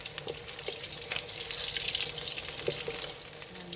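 Batter for Thai hoi tod oyster fritters frying in oil, a steady bright crackle with watery hiss and a few short pops, close and continuous without a break.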